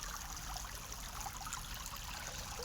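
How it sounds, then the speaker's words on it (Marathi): Water flows in a stream near a village on its way toward a river, a steady, continuous rushing and trickling wash that stays even throughout, with no voices. "तुम्हाला पाण्याचा आवाज येत असेल, ऐकू शकता."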